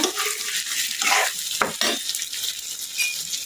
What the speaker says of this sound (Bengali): আলুর সাথে ভাজা হয়ে যাবে এই মটরশুঁটিটা